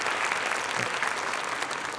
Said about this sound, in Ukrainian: Весь зал тобі аплодує